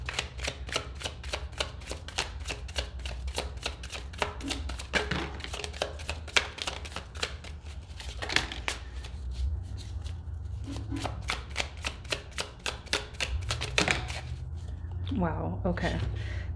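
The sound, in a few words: shuffling and pulling tarot cards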